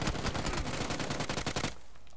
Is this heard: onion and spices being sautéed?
no